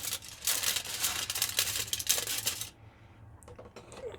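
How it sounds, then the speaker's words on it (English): Scissors snip a square out of a sheet of aluminum foil, a dense run of crisp crinkling cuts up close for a few seconds, then a quieter stretch with a few faint rustles and taps. "So I'm going to cut myself a nice little square."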